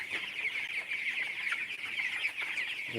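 A flock of broiler chickens on a farm keeps up a steady, dense clucking and chirping throughout, fairly faint and even, with no voices.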